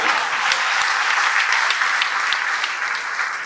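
Audience applause at a centenary commemoration event in Mumbai, a bright, dense roar of clapping from a large crowd, steady and fairly loud, easing slightly toward the end with no speech.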